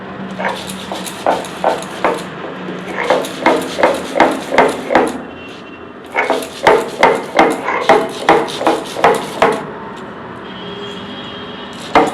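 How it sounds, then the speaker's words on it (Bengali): Soaked Gobindobhog rice and dal being ground by hand on a stone, a loud run of rhythmic pounding and scraping strokes in two bursts with a pause between. "এখন বেটে নিচ্ছি চাল আর ডালটা"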